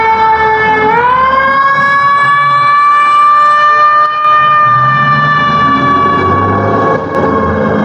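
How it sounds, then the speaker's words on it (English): A fire truck siren wails loudly on a city street in Leslieville, Toronto, a steady rising and holding tone very close by, with engine rumble underneath. "I'm gonna wait on this fire truck."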